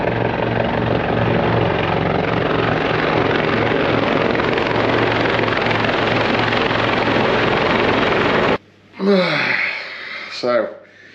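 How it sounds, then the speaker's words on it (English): A helicopter circles overhead during a gravel cycling trip on Gran Canaria, a loud continuous rotor roar that holds steady for most of the stretch, then cuts off abruptly, followed by brief breathy sounds. "there's a helicopter circling overhead"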